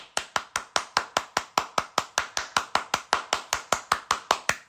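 Rhythmic group clapping cheering on the Cleveland Guardians baseball team, about twenty sharp, evenly spaced claps in a fast steady beat, crisp and close with nothing else over it.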